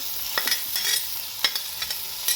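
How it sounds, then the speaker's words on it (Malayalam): Radish curry ingredients stir and fry in a pan, a continuous bright sizzle broken by several sharp spoon scrapes and clinks at irregular intervals, close and alone. "ഇതെല്ലാം കൂടെ ഒന്ന് ജസ്റ്റ് ഒന്ന് ഫ്രൈ ചെയ്തെടുക്കാം."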